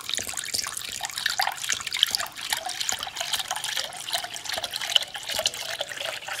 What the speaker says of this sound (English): now we're gonna combine gradually 3 cups of milk